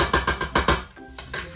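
Meat goes into a hot pan already holding onions and a pinch of salt, giving a quick run of five or six close, loud sizzling bursts that ease into a quieter, steadier fry.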